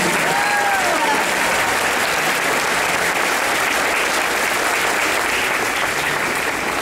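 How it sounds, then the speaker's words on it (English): Sustained applause from a school audience at a 5th grade spring band concert, steady dense clapping throughout with a faint voice or two underneath. "How about a round of applause for those people?"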